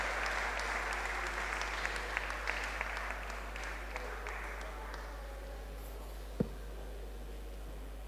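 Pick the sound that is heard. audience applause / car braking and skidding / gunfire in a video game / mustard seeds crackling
audience applause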